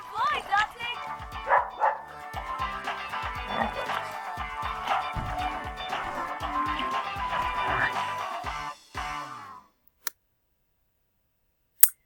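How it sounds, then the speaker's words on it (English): A Xolo, the Mexican hairless dog, barks and yips in a rapid, loud, close run of repeated barks that continues for several seconds, then stops abruptly, leaving near silence broken by two brief clicks. "So that's the Xolo dog from Mexico."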